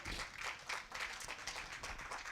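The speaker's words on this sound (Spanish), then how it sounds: "Dale palmas con todo su corazón al Señor" A church congregation claps faintly and rhythmically during a sermon, soft repeated bursts of many hands heard from a distance.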